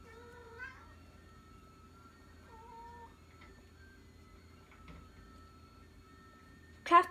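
A cat meowing indoors in a quiet kitchen, a few faint drawn-out cries early on and a sharper, louder call at the very end.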